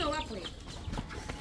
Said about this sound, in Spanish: ¿Cuántos pollos? Un montón de pollitos